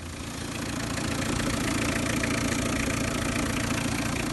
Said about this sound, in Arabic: غادي نسمعوا المحرك ديال السياره